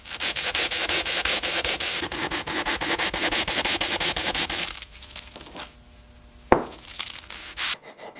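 Coarse abrasive sanding of a heavily rust-pitted 1927 TT pistol slide: steady rhythmic rasping strokes for about five seconds, then quieter scraping with a sharp knock near the end.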